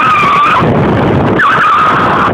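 A security car skids with its e-brake pulled, producing a loud, close tire squeal that breaks off briefly and then screeches again in a second long skid.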